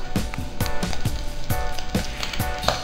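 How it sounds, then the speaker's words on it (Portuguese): Chopped bacon sizzles and crackles steadily in a hot pan, a dense close frying hiss punctuated by rhythmic stirring scrapes about twice a second, with no voices. "Terminando de fritar aqui o bacon, vou colocar a linguiça."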